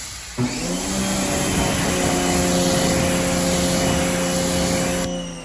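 A steady, loud broadband hiss of pressurised water sprays car wheels during a wash, running continuously for about five seconds with a constant motor-like hum underneath, starting abruptly and cutting off near the end.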